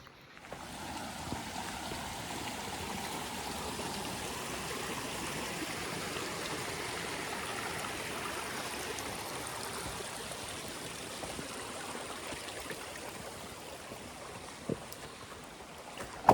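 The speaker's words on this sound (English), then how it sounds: "This trail has so many peaceful little streams, some beautiful brush." Small streams along a mountain hiking trail near Angel Fire trickle and babble in a steady, close wash of water that continues without a break, with no voices.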